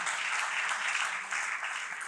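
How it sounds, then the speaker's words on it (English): Audience applause at an ideas conclave, a dense even roar of many hands clapping from a large hall, steady throughout with a brief dip midway and no talking. "our constitution deserves a big round of applause for"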